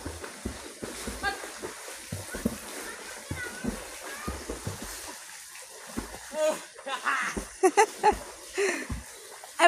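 Water splashing and sloshing as someone wades into a village pond, with irregular bursts of splatter under frequent nearby talk, including children's voices.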